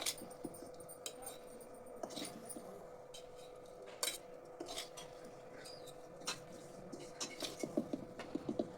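Homemade sour-spicy amla pickle is spooned into a small, clean, dry glass jar, giving quiet, scattered clinks and soft taps of a utensil against glass at an uneven pace.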